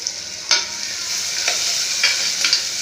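Chopped onion and green chili sautéing in hot oil in a pan, with a bright continuous sizzle broken by several scraping stirs of a spoon, close and fairly loud, with no talking.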